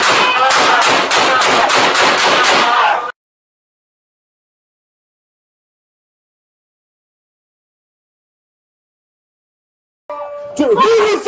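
Rapid gunfire aimed at police officers erupts in a loud, dense burst of close shots for about three seconds, then stops dead into silence before shouting voices break in at the end.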